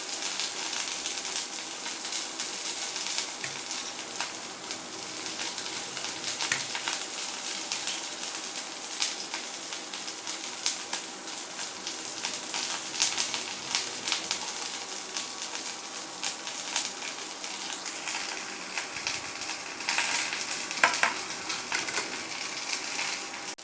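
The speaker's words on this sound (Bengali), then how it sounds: "দেখো ফুলকপিগুলো ভাজা ভাজা হয়ে গেছে" Cauliflower florets fry in oil in a wok, giving a steady, close hiss of sizzling with faint crackles and occasional small clinks throughout, no talking.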